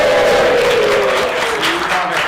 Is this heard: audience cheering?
yes